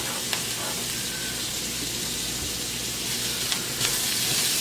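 Chopped onions sizzle loudly in an overheated pan for a tater tot casserole, a steady, dense frying hiss with faint crackles running throughout and no talking.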